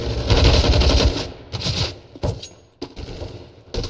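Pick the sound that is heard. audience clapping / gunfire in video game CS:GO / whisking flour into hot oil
gunfire in video game CS:GO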